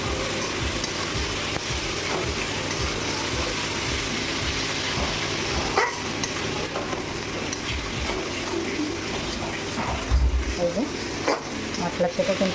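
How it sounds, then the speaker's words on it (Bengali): Spice paste with turmeric frying in oil for a Bengali koi fish curry, a steady dense sizzle with stirring and scraping throughout, and a brief low thump near the end. "এবার আমি মশলাটা যতক্ষণ না তেল থাকবে মশলাটা কষাতে হবে"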